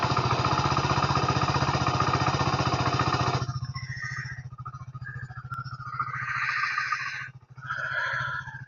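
A motorcycle engine carrying two riders drones steadily at about 20 km/h on a road in dense fog, loud and rough with a pulsing low rumble, then thins out and turns rougher over wind and road noise.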